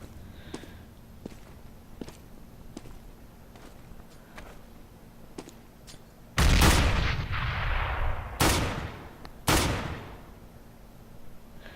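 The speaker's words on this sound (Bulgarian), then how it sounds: "Стрелям, 100 пъти го оцелих, но той не умира." Gunfire in Counter-Strike: Global Offensive: a quiet run of faint footsteps and distant shots, then a loud close burst of gunfire followed by two more sharp, heavy bangs with ringing decay.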